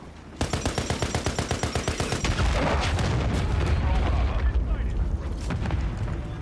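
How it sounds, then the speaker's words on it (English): A cruise missile strikes in Call of Duty Modern Warfare III: rapid gunfire gives way to a heavy, rumbling explosion and sustained roaring blast noise that slowly fades, with voices in the mix. "Hostile cruise missile incoming."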